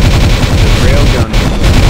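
Railgun fire in the space strategy game Nexus: The Jupiter Incident, a loud, dense barrage of rapid booming pulses with a brief dip midway, sustained throughout.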